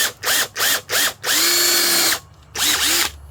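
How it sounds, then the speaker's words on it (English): A power drill countersinks a hole for a TIME-SERT thread insert, running in several short loud bursts and then a longer sustained spin, with brief pauses between them. "Now we're gonna countersink it so that the flange, the base of the TIME-SERT has a little flange on it."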